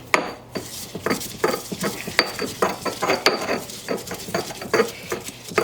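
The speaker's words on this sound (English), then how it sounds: "So now we have to grind it up, which is where a nice mortar and pestle comes in." Curry ingredients ground in a mortar and pestle for a vegan green curry: close, repeated knocking and scraping strokes in an uneven but steady rhythm, with no voices.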